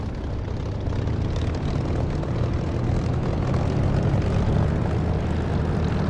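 Propeller aircraft engine in the DCS flight simulator revving up to around 1300–1400 rpm, a loud continuous droning roar with a steady throb that holds the whole time, with no talk over it.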